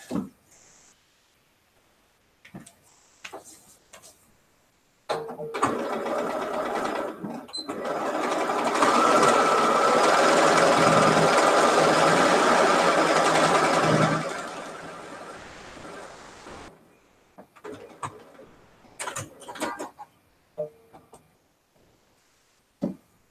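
A sewing machine piecing quilt fabric runs in a loud, continuous whirring burst of about ten seconds, preceded and followed by shorter stitching spurts, handling clicks and quiet pauses.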